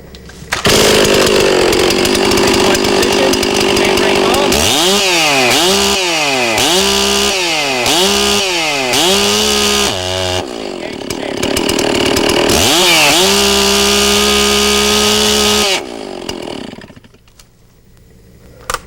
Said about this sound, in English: we're going to get the saw started, we're going to warm it up a little bit, and we're going to hit it wide open throttle